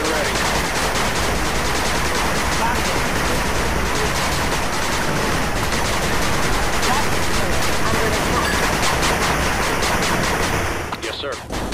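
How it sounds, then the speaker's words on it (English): Machine gun turret firing in the video game 8-Bit Armies, dense sustained rattling bursts of gunfire overlapping continuously and loudly for the whole stretch, tapering off at the very end. "Machine gun turret under attack."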